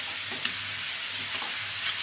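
Onions frying in oil in a pan while cooking an egg mustard curry: a steady, bright sizzling hiss with faint stirring scrapes, fairly close, no talking.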